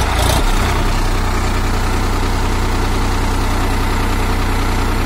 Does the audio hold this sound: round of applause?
no